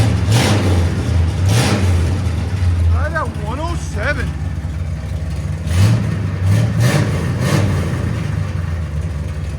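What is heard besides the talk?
1970 Chevy Chevelle SS 454 big block V8 revving, straight pipe exhaust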